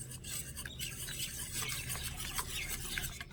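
Batter of cornflour, flour, water, salt and pepper for Bengali aloo chop with drumstick flowers is stirred in a bowl, giving a steady close-up scraping and swishing that runs continuously throughout.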